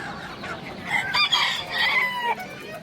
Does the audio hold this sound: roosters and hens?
yes